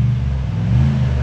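Car engine revving loudly and steadily up close, a deep continuous rumbling drone in a brief burst, from a Ford or Subaru.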